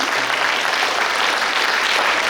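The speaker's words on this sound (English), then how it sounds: "So we need to give a big round of applause to both the children" An audience applauds dancers at an arangetram recital, a steady, dense wash of clapping from many hands that holds loud and even throughout.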